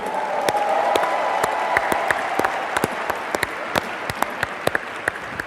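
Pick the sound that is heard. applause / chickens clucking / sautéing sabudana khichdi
applause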